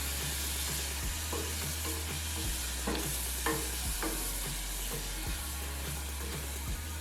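Green seasoning being stirred into rice in a pot for a one-pot spinach eggplant rice, with steady scraping and stirring strokes over a soft sizzle and low hum, close and moderately quiet, no talking.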